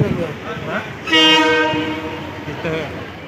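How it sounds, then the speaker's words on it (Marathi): A train horn sounds loudly for about a second amid rumbling rail noise as the train arrives at a station in Ratnagiri, Konkan, with a voice briefly heard before and after. "फायनली ट्रेन आलेली आहे"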